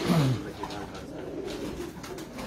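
Flying pigeons give a soft, low cooing close by, one throaty burst at the start followed by quieter murmuring over light background noise.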